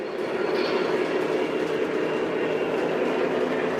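A Lionel PRR Sharknose model diesel train runs on its track layout, making a steady, continuous rolling rumble throughout with no pauses.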